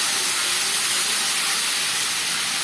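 Potatoes frying in hot oil with cumin and chilies in a wok give a steady, loud, bright sizzle that hisses evenly throughout with no talking.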